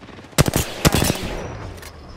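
Rapid gunfire in the Apex Legends video game, with loud bursts of automatic shots and sharp single cracks in quick succession, fading into a softer tail.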